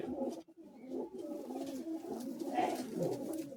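A caged pigeon at a pigeon club competition coos in soft, repeated rolling phrases close by, continuing throughout with no break.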